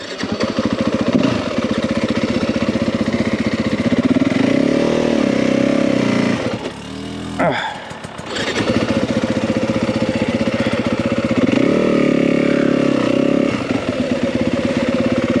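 A Yamaha WR250F dirt bike labours along rocky single track with a loud, steady engine drone, rising and falling with the throttle and rattling over rocks, with a brief dip in the middle.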